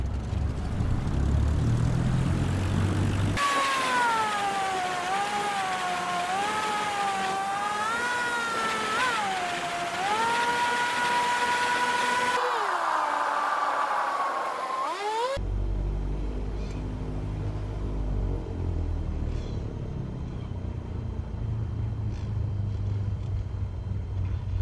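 A propeller airplane taxis in Microsoft Flight Simulator 2020, giving a steady droning engine hum that shifts pitch between sections, with a low, rumbling stretch toward the end.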